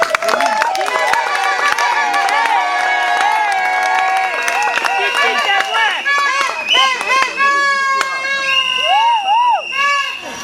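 Wedding guests at a civil marriage ceremony cheer loudly, a dense crowd of voices with wavering, ululating cries and some clapping, continuous throughout.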